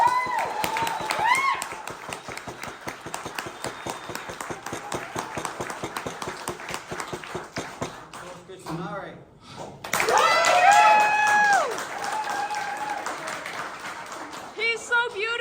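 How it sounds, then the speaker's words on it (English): An audience claps at a pub politics event, a rapid, steady patter of hands that is moderately close and continues for several seconds, then gives way to cheering voices and talk. "Can I please have the biggest round of applause of the entire evening for Skye Atherton, Emma Livesey, Adam Bennet"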